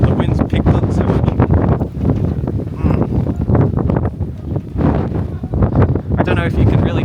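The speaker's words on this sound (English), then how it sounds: "Oh my god, the wind's picked up so much." Strong, roaring wind buffets the microphone in rough gusts at Petra, with a person speaking loudly over the noise throughout.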